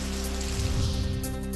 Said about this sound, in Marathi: बुलढाणा शहरातही दमदार पाऊस